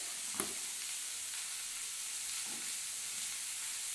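Fish pieces frying in a pan for a Bengali home meal, a steady soft sizzle throughout with a couple of brief clinks of stirring, close and moderately quiet, no talking.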